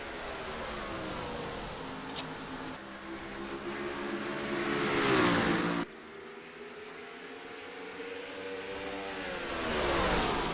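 Race car engines on the Richmond oval, a rising and falling whine as cars sweep past, with a sudden cut and then another rising pass; fairly quiet overall.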